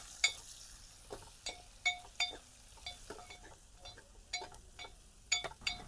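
Chickpeas, cashews and onion frying in a pan, a soft background sizzle under repeated close scraping and clinking of a spoon against the pan in an irregular stirring rhythm.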